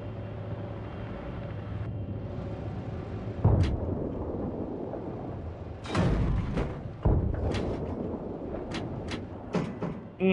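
Heavy booming blasts from an artillery cannon in Battlefield 3 go off repeatedly, a few seconds apart, with sharp cracks and rumbling over a continuous low engine drone.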